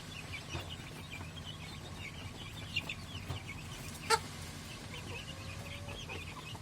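Chickens, including a blue-egg-laying hen, cluck softly in the distance against a quiet background, with a few sharper clucks and a brief clink partway through.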